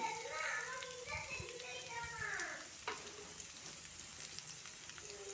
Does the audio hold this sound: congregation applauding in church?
no